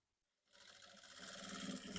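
A sewing machine runs a double stitch on a baby crop top, starting after a brief silence and building into a steady, fast mechanical whir that grows slightly louder and stays close.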